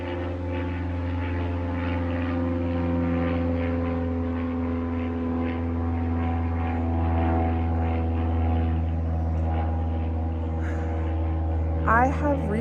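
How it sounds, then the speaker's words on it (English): A loud, steady propeller airplane drones overhead throughout, a dense low hum with strong harmonic tones that never lets up, and a voice speaks faintly beneath it. "If you can hear me, that plane is very loud."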